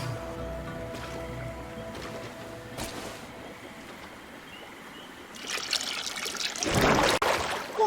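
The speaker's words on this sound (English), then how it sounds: "That must be where we need to pour the potion." Potion poured onto altar stones in the GreedFall video game: a quiet ambient stretch with a few faint taps, then a loud, splashy trickle of liquid swelling over the final seconds.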